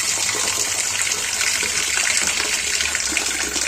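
Water gushes steadily from a tap into a vessel of rice being set to soak for kheer, a loud continuous rushing pour with no talk.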